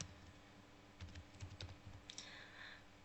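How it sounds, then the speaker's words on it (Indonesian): Keys clatter on a computer keyboard while data values are entered. Short, quiet bursts of keystrokes cluster in the middle of an otherwise calm moment. "kita ketikkan dulu"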